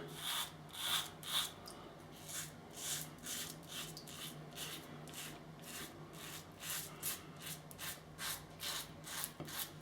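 A safety razor loaded with a Gillette Silver Blue blade on its third use scrapes across stubble in close, steady strokes, a rhythmic series of crisp rasping passes heard alone without talk.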